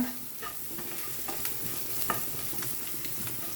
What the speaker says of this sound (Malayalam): ഇത് നല്ലവണ്ണം ഒന്ന് നമുക്ക് ഹൈ ഫ്ലെയിമിലാണ് വെച്ചിരിക്കുന്നത്. നല്ലവണ്ണം ഒന്ന് വഴറ്റിയെടുക്കാം.